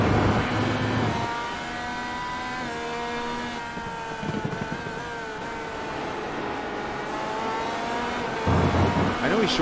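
Race car engine in a sim racing game at Road America, short shifting at low revs: a droning, buzzy tone climbs gently through each gear with brief dips at the shifts, steady and fairly close, with a voice talking over it.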